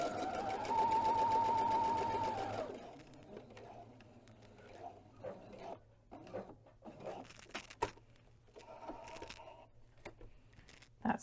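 A sewing machine stitches a partial seam on a quilt, running steadily and fairly loud for about two and a half seconds with the needle stopping down, followed by faint handling noises and light rustling of fabric.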